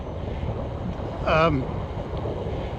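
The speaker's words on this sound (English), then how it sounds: "As you can see, it's pretty breezy today." Wind blows steadily on a breezy day, a broad rushing roar with microphone buffeting throughout, and a brief higher whine rises over it mid-clip.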